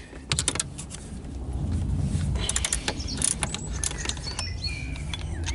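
A large wrench works at bolts on a Honda Civic FN2 Type-R, giving close, irregular metallic clicks and clanks with scraping and shuffling between them.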